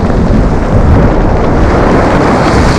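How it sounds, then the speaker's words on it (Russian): Loud, continuous roaring rush of a flooding river mixed with strong wind buffeting the microphone, dense and unbroken throughout, at the Psezuapse river mouth near Lazarevskoye on the Black Sea. "Река прям разбушевалась сегодня"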